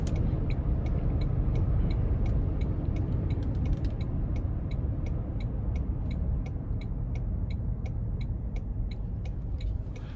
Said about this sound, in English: I'm just hearing a little bit of wind noise traveling at normal speed here